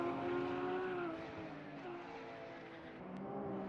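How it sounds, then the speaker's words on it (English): Race cars on an NLS endurance circuit, one lapping a Porsche, give off faint, distant engine tones that rise and fall in pitch as the cars pass and shift gears. "Motorsports number 3 just trying to lap a Porsche."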